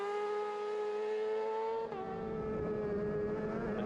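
Super sport race motorcycles on treaded, soft-compound tyres at the Manx Grand Prix road race: a loud, sustained high engine whine that shifts pitch midway as a machine passes and changes gear, alone without voices.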